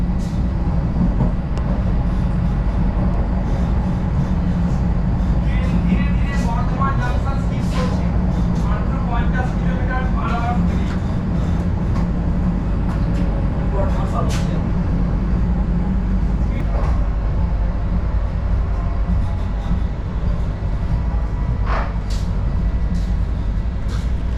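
Vande Bharat express train rolling slowly through Bardhaman junction, heard from inside as a steady loud low rumble with clacks and brief squeals, plus faint voices in the background.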